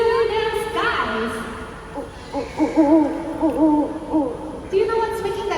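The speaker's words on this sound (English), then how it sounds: "it's a familiar call of an owl" An owl hoots repeatedly at night in a Singapore night safari setting, a series of wavering, tremulous calls close to the microphone, with a faint voice briefly audible alongside.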